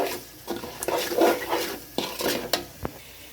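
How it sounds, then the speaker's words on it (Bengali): Fried potatoes and meat stirred in a pot while cooking tehari rice, giving close, irregular scrapes and metallic clinks of a spoon against the pot over about three seconds, with no talking. "একটা আলু ভাজা দিয়ে একটু নাড়াচাড়া দিয়ে দেবো"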